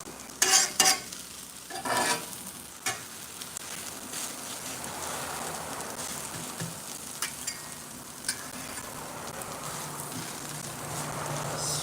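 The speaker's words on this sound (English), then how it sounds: "grilling onions actually takes quite a bit of time" Onions for smash burgers sizzle steadily on a hot grill, a dense hissing bed broken early by a few loud scraping tosses and later clicks of a utensil, close up and without talk.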